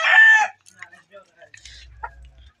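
A chicken calls loudly in a short, harsh burst close by, followed by faint scattered clucks and soft rustling noises.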